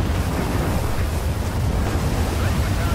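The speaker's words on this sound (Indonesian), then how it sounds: "Kalau perang ada badainya gini, repot juga guys." Steady roaring wind from a windstorm on a Battlefield 4 battlefield, a dense continuous rumble with no gaps, loud and close throughout.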